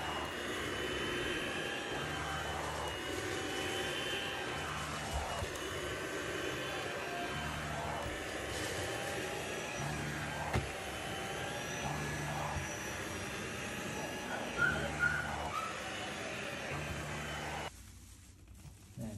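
A Tineco PureOne S11 cordless vacuum cleaner runs with a steady whirring drone whose suction power rises and falls automatically, moderately loud, then quiets near the end.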